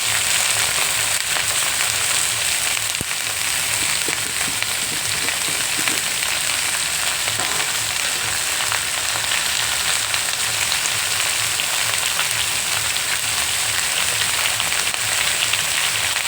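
Ivy gourd with grated fresh coconut frying in a pan gives off a steady, loud broadband sizzle, continuous for the whole stretch with faint scraping and no voices.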